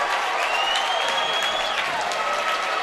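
A high school boys basketball crowd in a gym roars with cheering and applause after a forceful two-handed dunk, a loud sustained wash of noise over the full stretch with a whistle-like tone running through it.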